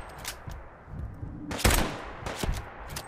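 A few sharp sniper rifle shots ring out in Fallout 4 against a dim background hiss, spaced irregularly, with one loud crack standing out in the middle.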